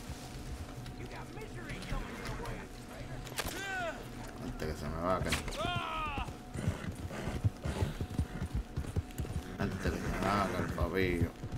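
Horse hooves clip-clopping at a steady run in the Red Dead Redemption 2 video game, close and continuous, with a rider calling and urging the horse on over the top and a brief whinny partway through.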